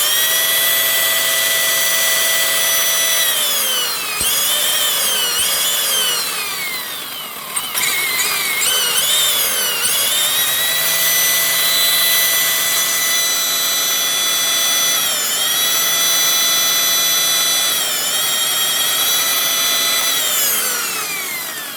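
Brushed motor of an ECX Torment 1:10 RC truck running on a 3S LiPo while flipped upside down, a loud steady electric whine with pitch rising and falling as the throttle changes, close up with no talk.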